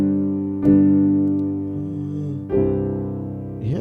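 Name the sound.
piano playing a sus4 chord on the 5 chord, G over C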